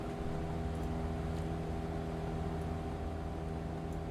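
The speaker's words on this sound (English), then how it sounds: "Let's turn the engine sound down." A light aircraft engine in Microsoft Flight Simulator drones steadily at a constant pitch, a continuous close hum with no break and no voices.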